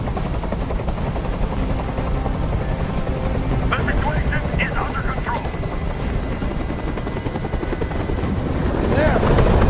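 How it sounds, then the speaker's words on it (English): A helicopter's rotor in Detroit: Become Human drones steadily nearby while someone speaks briefly over the noise; the engine roar swells toward the end. "Tell that helicopter to get out of here."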